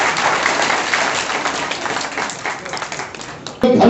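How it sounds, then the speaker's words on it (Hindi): An audience at a reception for doctors honoured for their service during lockdown claps for a speaker, a dense, loud wash of applause that thins slightly toward the end before a sharp burst near the close. "अरे जरा खतीब के लिए तालियां बजा दे यार"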